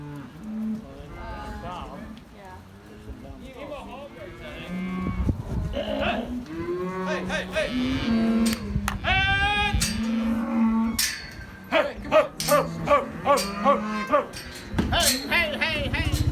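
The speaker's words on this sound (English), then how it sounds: "Hopefully the cows just kind of stay right here and eat grass." Cattle on a ranch pasture moo repeatedly, several animals overlapping with long low calls that grow louder and closer midway, followed by a rapid series of shorter bellows.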